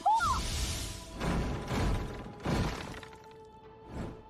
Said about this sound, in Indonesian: Jenderal Petir 5, hancurkan kereta api